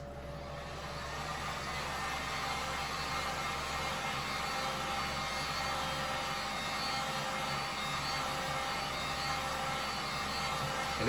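A heat gun blowing hot air onto the fender of a Toyota MR2 SW20, a constant close whooshing roar with a low fan hum that runs steadily and unbroken throughout, with no speech.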